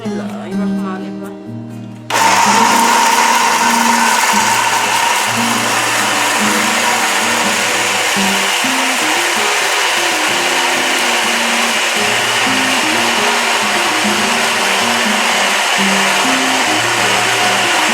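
After a brief spoken moment, a kitchen blender starts loudly and whirs steadily while mixing a mango shake with milk, its motor pitch wavering as the contents churn.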